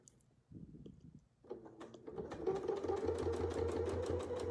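A domestic sewing machine stitching an edge-to-edge quilt pattern starts with a few soft clunks, then runs up into a steady, rapid mechanical whir of stitches, close and moderately loud.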